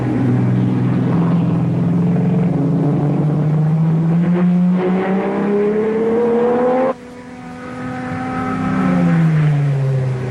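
At Le Mans, Salvadori's Aston Martin races with engine howling loud and near, pitch climbing through the gears, then a brief drop and another rising pass of engine noise.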